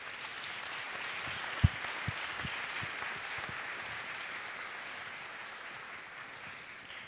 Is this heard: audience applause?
yes